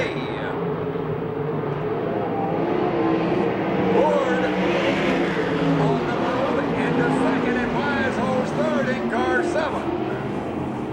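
USAC/CRA sprint cars race at Phoenix, their engines a constant, loud roar as the cars circle the track, with a commentator talking over them throughout.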